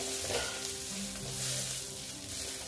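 Jackfruit frying in a pan with Kashmiri red chili powder, stirred so a steady close sizzle runs throughout with light scraping, no talking.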